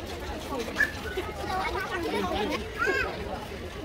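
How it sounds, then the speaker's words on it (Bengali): Several birds in a zoo aviary call and chirp over a busy background of people talking, with a couple of sharper bird cries standing out. "বানরের খাঁচার পাশে বিশাল এরিয়া করে এখানে প্রচুর পাখি আছে"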